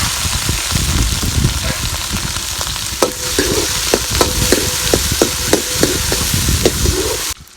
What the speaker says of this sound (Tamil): வெங்காயம் போட்டு வணக்கிக்கலாம்.